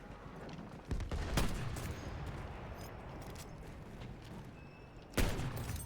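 Gunfire from a Battlefield 1 match: two sharp, loud shots about four seconds apart, the second near the end, over a steady rumbling din of battle.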